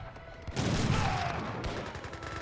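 Falconet, culverin and other artillery fire in an Age of Empires 3 battle comes as a dense, continuous rumble of overlapping booms and crackling shots, steady and loud throughout.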